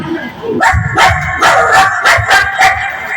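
A person imitates a dog barking in a mimicry performance at a school arts festival, about six loud, quick woofs in a row, close and strongly voiced.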